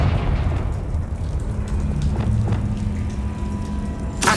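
The Confringo blasting spell explodes in the video game Hogwarts Legacy, a heavy, rumbling boom with a crackling fiery tail that holds steady for several seconds, loud and close, ending in a sharper burst.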